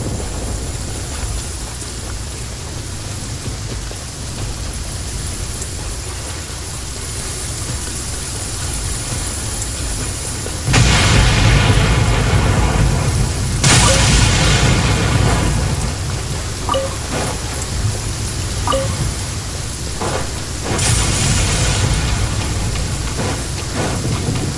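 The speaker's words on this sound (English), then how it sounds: "I love listening to the rain from the courtyard" Rain falls steadily on a courtyard in the Genshin Impact video game, a constant wash of patter with a few louder bursts like distant thunder rolling in. No voices are heard.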